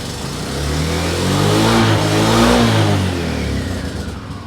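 A 1998 Yamaha Majesty scooter engine fitted with a new exhaust revs up and holds a steady, fairly loud drone for several seconds before easing off slightly, with no voices over it.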